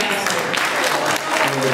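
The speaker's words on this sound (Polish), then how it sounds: "Ogromne brawa na prezydenta." Dense applause for the president at a family event, a loud continuous clatter of many hands with a voice faintly underneath.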